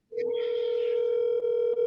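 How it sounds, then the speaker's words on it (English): A phone goes off during an online class, sounding one loud, steady electronic tone that starts abruptly and holds with only brief dips. "Remember to mute, somebody's phone ringing."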